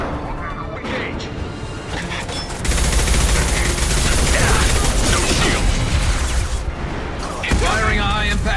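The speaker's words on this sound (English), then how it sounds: "Firing a high-impact shot." Heavy high-impact gunshots ring out in the Mass Effect 2 video game as combat breaks out near a conveyor line, a dense, loud barrage building after a quieter start, with voices mixed in.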